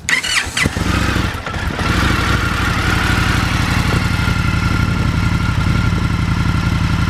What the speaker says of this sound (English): I'm going to start this thing up and let you hear it because I think it actually sounds pretty cool for a stock bike